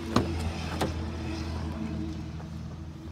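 Door of a 2019 Jeep Cherokee Limited opening, a couple of soft clicks and thumps over a steady low idle-like hum outdoors.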